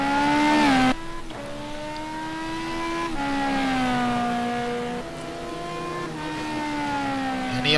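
A GT2 race car in a racing video game runs through the Spa-Francorchamps circuit, engine whining loud and close, its pitch rising through each gear and dropping sharply at every shift, with no one talking.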